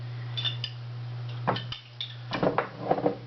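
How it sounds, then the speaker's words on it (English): A metal knife clinks against a glass jelly jar while a peanut butter and jelly sandwich is made, giving several light taps and scrapes over a steady hum. "we need to put the knife into the jar"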